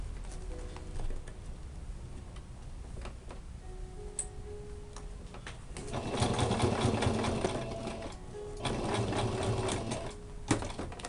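A sewing machine stitches bias binding onto a fabric cover for a vaccination card and birth certificate, a rapid mechanical whir in bursts with pauses and small clicks between runs, close and loud.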